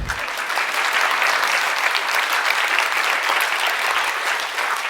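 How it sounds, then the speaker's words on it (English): A crowd claps extra loudly for two equations, a thick continuous wash of hands that holds at full strength for about five seconds, with no talking over it. "We need to clap extra loudly."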